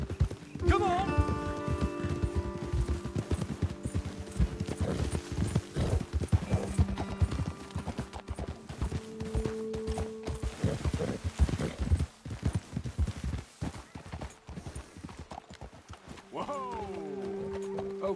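Horses gallop with rapid, uneven hoofbeats throughout in the video game Red Dead Redemption 2, with a whinny near the start and another near the end, and voices talking over the riding.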